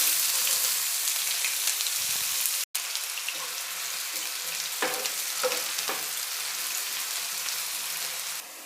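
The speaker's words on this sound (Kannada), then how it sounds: "ಎಣ್ಣೆ ಬಿಸಿ ಆಗಿದೆ ಈಗ ನಾನು ಕಟ್ ಮಾಡಿರೋ ಈರುಳ್ಳಿನ ಸೇರಿಸ್ತಾ ಇದ್ದೀನಿ" Chopped onions frying in hot oil, a loud continuous sizzle close by, broken by a brief dropout and a few stirring scrapes, with no voices.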